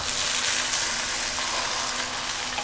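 Chopped tomatoes hit a hot pan for a vegetarian soy fish podimas, giving a loud, steady hiss of frying and sizzling with faint stirring and no voices.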